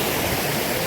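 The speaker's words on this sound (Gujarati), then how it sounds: "તો આ છે ઝરણો પાણીનો." Mountain stream water flowing near Jatashankar waterfall in the Girnar hills at Junagadh, a loud, dense, unbroken rush heard up close for a brief moment.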